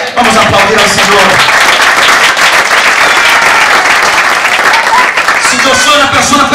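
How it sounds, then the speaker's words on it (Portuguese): A church congregation claps together, a loud, dense and sustained round of applause that fills the room, with voices mixed into it. "Vamos aplaudir ao Senhor."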